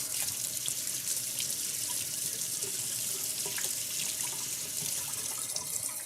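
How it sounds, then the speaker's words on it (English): Tap water runs steadily into a kitchen sink while a used spatula is rinsed during brioche cinnamon roll dough preparation, a continuous close splashing stream with no talk. "Grabbing a spatula that has already been used and rinsing it off."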